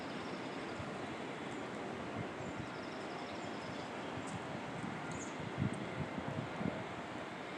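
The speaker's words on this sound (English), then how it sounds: "even with these winds that are blowing" Strong wind blowing outdoors where tree tops sway, a steady broadband roar and rumble of gusts buffeting the microphone, with a few faint higher rustles, continuous and fairly loud throughout with no talking.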